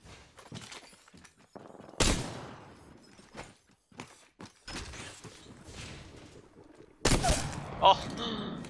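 Gunfire in the Apex Legends battle-royale game cracks out in sharp isolated shots, two loud blasts stand out amid scattered thumps and clicks, with a voice speaking intermittently.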